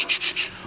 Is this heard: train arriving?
no